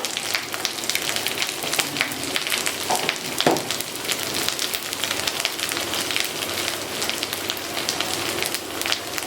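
A spice paste of ground ginger, cumin, dried red chilli, poppy seed and turmeric fries in a pan for pointed gourd and prawn curry, giving a steady, close crackling hiss with a few brief louder pops and no talking.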